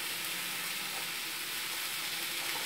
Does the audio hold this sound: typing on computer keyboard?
no